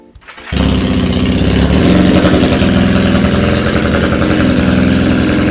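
A GPX Legend 250 Twin Mark2 motorcycle from 2020, styled old school, starts with a short crank and then idles loudly and steadily close by, its twin exhaust rumbling evenly with no one talking.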